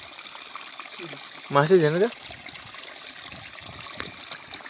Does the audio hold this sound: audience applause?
no